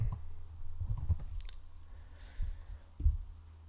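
Keys click on a computer keyboard in short irregular bursts, quiet and close, with a few heavier taps and pauses between them.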